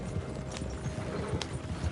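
Horse hooves clip-clop in a rapid gallop in Red Dead Redemption 2, a rhythmic thudding beat at moderate distance with faint ambient noise.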